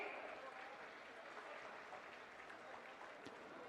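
Scattered applause from a crowd at an outdoor government scheme event, fairly faint and diffuse, with a few sharper individual claps poking through a steady background of clapping and murmur.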